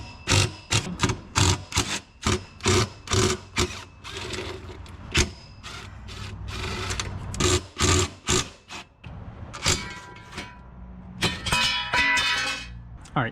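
A ratchet tool with a T40 Torx bit loosens the bolts on the rear cross member of an F56 Mini Cooper S during an exhaust install, giving repeated close bursts of rhythmic clicking and metallic rattles.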